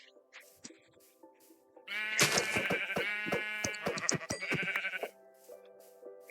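Sheep in Minecraft bleat in a quick series of loud, wavering cries, one overlapping the next, with faint game sounds and soft clicks around them.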